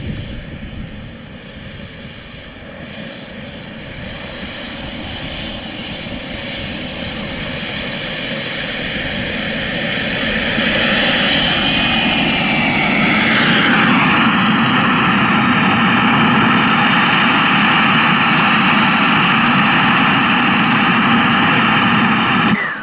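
Freewing Avanti S V2 RC jet with a King Tech K45 turbine flying past, a loud high-pitched turbine whine that rises steadily in volume, with a falling Doppler sweep as it passes close overhead.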